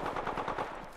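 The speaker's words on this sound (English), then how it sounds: "Opening fire." Rapid automatic gunfire in a video game: a tight burst of about five shots in one second, loud and close, with no talking.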